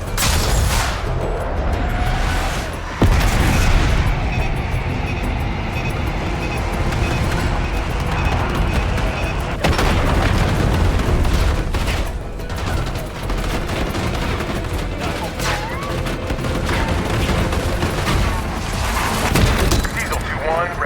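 Bomb blasts and gunfire from an airstrike in Call of Duty Black Ops 6 fill the scene, dense and loud throughout with sharp cracks and booming bursts, a heavy hit near three seconds and another around ten, while voices speak over the battle.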